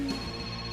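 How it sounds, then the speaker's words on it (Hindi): A mobile phone rings in a short burst of electronic tone, close and fairly clear, cutting off quickly. "घंटी बजी तो ये वाइब्रेट मोड पे क्यों चली गई?"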